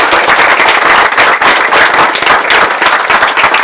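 A classroom of students applauds a seventh-grade girl, with loud, dense, continuous clapping heard close up throughout.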